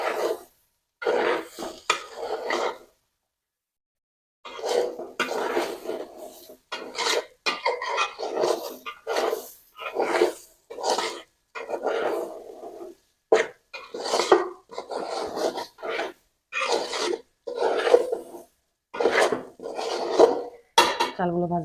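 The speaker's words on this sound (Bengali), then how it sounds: "আমি চালগুলো সুন্দর করে ভাজা ভাজা করে নিয়েছি।" A spatula scrapes and rasps through rice frying in a pot for chicken biryani, in repeated close, loud bursts of stirring with short pauses between strokes.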